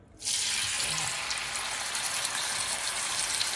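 Chicken pieces sizzling in a hot pan for a stir fry with bok choy, a loud, steady hiss and crackle that starts abruptly and holds evenly throughout.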